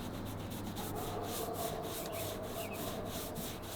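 Steady rhythmic scratching of a shedding horse's coat, a close, soft brushing rasp repeating in quick strokes with no talk.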